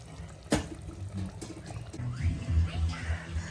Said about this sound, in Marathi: बाजरीचं पीठ थोडंसं हे करून असं मिक्स करायचं पाणी टाकून आणि ते त्याच्यावरतून त्याच्यात ओतून द्यायचं